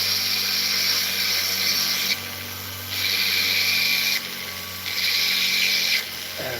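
A rotary tool fitted with a dull burr whines in bursts while setting stones in a half eternity ring, the high-pitched drilling coming in three long runs with short quieter pauses between, loud and close with no talking.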